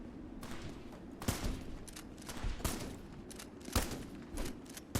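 Sniper rifle shots in the shooter game Metal Garden ring out as about five loud, sharp cracks at irregular intervals, each trailing off quickly over a low background hum.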